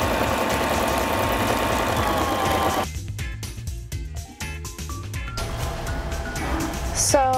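A sewing machine stitches through paper stationery, with a steady mechanical whir and a quick rhythmic needle patter running continuously, close and fairly loud, with a shift in tone partway through.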